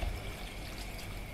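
Water pours over an ox heart in a cooking pot for a vegetable broth, a soft, steady, fairly faint splashing and trickle with no talk over it.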